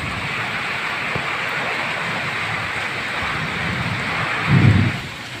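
Heavy rain and strong wind in a storm make a steady, dense roar throughout, with a brief low rumble swelling near the end.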